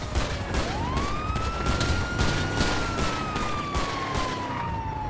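A police car siren in a GTA 5 roleplay game, a single rising and falling wail heard at moderate distance over steady background noise and scattered thumps, no talking.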